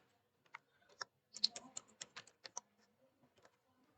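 Keys clack on a computer keyboard as Java program code is typed, producing a quiet, close burst of irregular keystrokes with short pauses between them.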